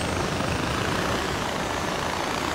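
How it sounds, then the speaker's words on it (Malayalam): Far Cry 4 helicopter engine and rotor rumbling as a loud, steady, unbroken wash of noise with no voices. "ഇവിടെ നമ്മുടെ ഹെലികോപ്റ്റർ ഉണ്ട് ഹെലികോപ്റ്ററിൽ പോവാം"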